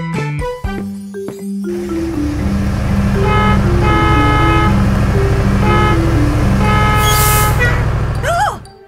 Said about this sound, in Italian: Oh, è l'autobus Barry!